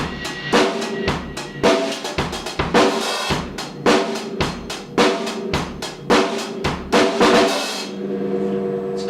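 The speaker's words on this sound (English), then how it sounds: "So there was 2 drum fills there, the first one on the hi-hat, the second one a little double snare drum." A drum groove plays with two fills, the first on the hi-hat and the second a quick double hit on the snare. Sharp, steady beats with cymbal wash run throughout, loud and close, with no voices.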